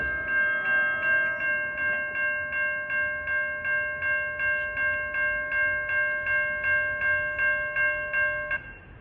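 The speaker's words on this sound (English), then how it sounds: "here comes train 62 en route from Port Jervis to Hoboken" An NJ Transit local, train 62 from Port Jervis to Hoboken, passes with a sustained multi-chime horn held for about eight seconds over a pulsing, rhythmic rumble of wheels, loud and close.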